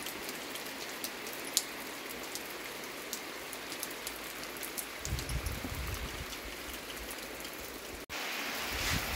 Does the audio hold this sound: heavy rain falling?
yes